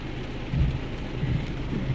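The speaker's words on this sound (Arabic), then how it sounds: "انتما شوفوا الشتا تبارك الله" Steady rain falls outside a house, a continuous soft wash of drops close by with faint rumbling underneath and no talking.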